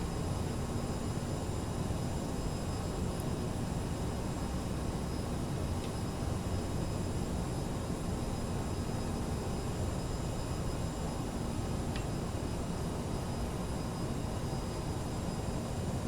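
Steady broadband jet roar of an Aerosoft CRJ 550/700 airliner in Flight Simulator 2020, a constant cockpit engine hum with no talk over it.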